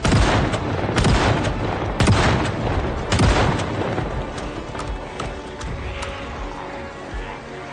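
Repeated shotgun blasts in Project Zomboid, loud booming shots fired in quick bursts over about eight seconds with a dense clattering game backdrop.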